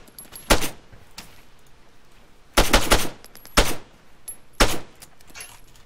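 Gunfire in the Breaking Point mod on the Esseker map: short, loud bursts of several shots at irregular intervals, separated by quiet gaps, with no speech.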